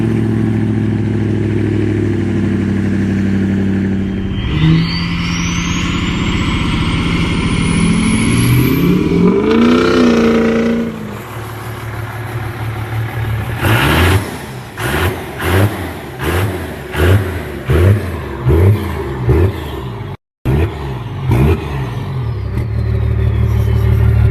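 Big diesel truck engine revving hard: a low rumble climbs into a rising high-pitched whine, then a series of sharp rhythmic throttle blips with a brief cutout, loud and close, with no talking.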